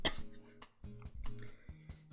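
A person coughs several times in quick short bursts, close and fairly quiet, with brief pauses between the coughs.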